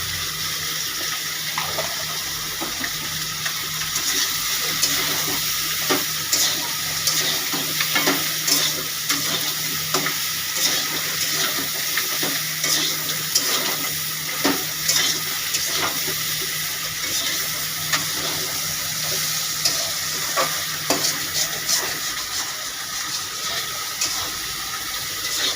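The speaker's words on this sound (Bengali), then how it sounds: "সবজিটা ভালো করে কষতে হবে" Ridge gourd and potato curry frying in a pan while being stirred, a steady close sizzle with repeated rhythmic scrapes and knocks of the spatula throughout, fairly loud, no voices.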